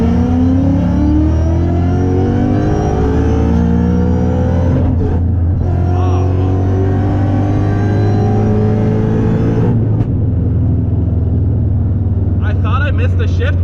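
A supercharged Ford Mustang accelerating hard, a loud close engine roar with rising pitch that drops briefly at a gear shift near the middle and again later, then climbs again.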